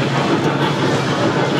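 Steady rumbling of a moving train, a continuous low roar and rattle of the carriage heard from inside.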